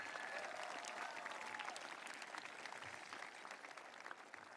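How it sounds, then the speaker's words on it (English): Graduation ceremony audience clapping for student speakers, a broad sustained round of applause from a large crowd, faint and distant, slowly tapering toward the end. "Can we just have a round of applause for all of our student speakers today?"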